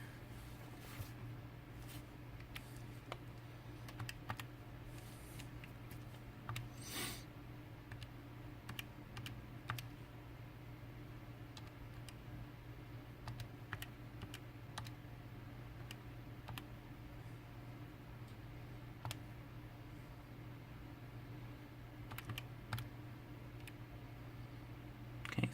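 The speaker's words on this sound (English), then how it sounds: "let me type this in." Keys pressed one after another on a calculator or computer keyboard, a long sequence of soft, close clicks with irregular pauses over a low steady background hum.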